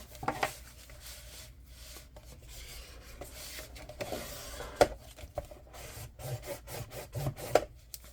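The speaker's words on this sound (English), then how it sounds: "And then I can burnish out my glue." Glued paper on a scrapbook album page is burnished with a tool, giving soft intermittent rubbing strokes and a few light taps, quiet and close.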